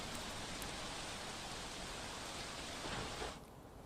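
Heavy rain pours down in Surat, Gujarat, as a dense, steady hiss that stays even throughout and then cuts off abruptly near the end.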